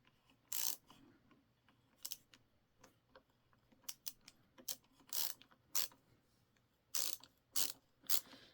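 Milwaukee ratcheting screwdriver clicking as it tightens a screw, rapid bursts of sharp ratchet clicks in short repeated strokes, close and fairly quiet with no talking.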